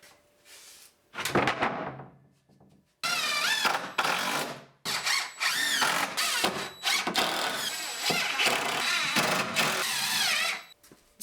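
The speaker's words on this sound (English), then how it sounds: "added a sheet of plywood on top," A power drill drives screws through a plywood sheet into a shelf box on a tote storage rack, sounding as loud close bursts of motor whine separated by short pauses.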